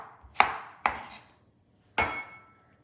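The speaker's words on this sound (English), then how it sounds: "I'm almost done chopping up my tomato" A knife chops through a tomato on a cutting board in a home kitchen, three sharp, close thuds with short ringing tails, evenly spaced at first and then after a pause, with no talk.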